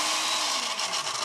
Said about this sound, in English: So we put the egg yolk in the blender.